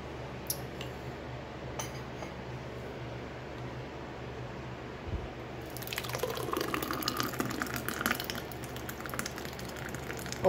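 Messy pour of a thick fruit smoothie, splashing and dribbling into a container, with a steady liquid patter starting midway and running on to the end, close and moderately loud.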